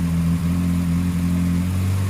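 Morris Minor engine idling on choke shortly after a cold start following a carburettor rebuild, a loud, close, steady low hum with slight wavering in tone.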